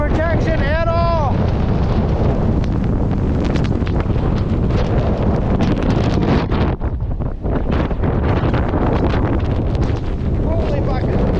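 Cold blizzard wind roars across open ground with no shelter, heavy continuous buffeting against the microphone, loud and unbroken, with a voice briefly heard beneath it.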